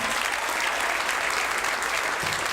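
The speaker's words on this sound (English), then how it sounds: "How about a nice round of applause for Kevin Ferguson, everybody?" Dense clapping from a comedy club crowd in Fort Wayne continues evenly for a couple of seconds, a close, sustained wash of hands without voices.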